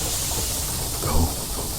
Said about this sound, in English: Steam engine is lit and fully functional.